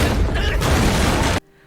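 A sea mine detonates against a giant monster's mouth in the film Godzilla Minus One, a loud, sustained blast and rumble that holds at full strength for over a second before cutting off abruptly into quiet.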